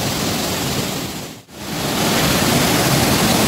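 The waterfall at Situ Gunung pours with a strong flow, a loud, steady rushing roar that briefly dips for a moment and then returns at full force, with no voices.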